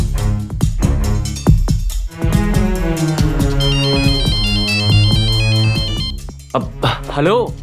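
A melodic phone ringtone plays on an outgoing call in a Hindi crime drama, loud and continuous for several seconds with a repeating tune over a steady backing.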